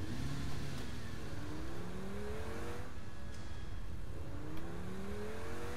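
A car engine in the video game Saints Row 4 drones and revs continuously, pitch rising and falling as it accelerates and shifts, loud and close throughout.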